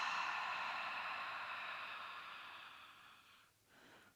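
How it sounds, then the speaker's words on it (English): A yoga ha breath, a long breathy exhale through the open mouth, heard close and alone as a steady airy rush that fades slowly over about three seconds before a short fresh breath. "we're going to take 2 or 3 breaths, ha breaths"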